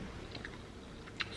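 Soft, close chewing and a crisp bite while tasting a Korean dish with salad greens, brief and quiet with no talk.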